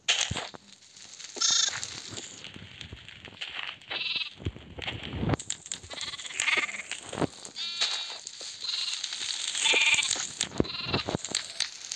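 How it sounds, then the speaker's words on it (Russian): Sheep in Minecraft bleat repeatedly, several short wavering calls spaced irregularly over a busy game soundscape with other creature noises mixed in; no talk. "Баран."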